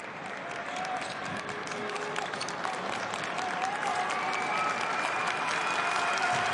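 A basketball arena crowd at a Basketball Champions League game between Mersin and Le Mans cheers on an 18-year-old at the free-throw line; sustained applause and crowd roar swell steadily, with a commentator talking over it.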